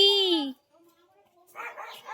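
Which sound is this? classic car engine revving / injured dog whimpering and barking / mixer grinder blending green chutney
injured dog whimpering and barking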